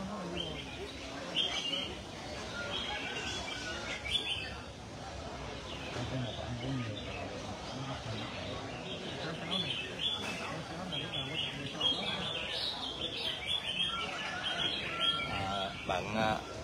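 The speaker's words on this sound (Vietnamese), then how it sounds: "Chiến binh số 24 là chim của bạn Ánh Minh Minh" Songbirds at a bird club singing competition keep up busy, overlapping chirps and trills throughout, fairly close and lively, with people talking beneath them.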